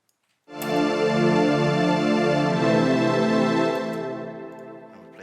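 A lush sustained synth pad in FL Studio swells in as one rich harmonic chord, holding steady for several seconds before slowly fading, clean and alone.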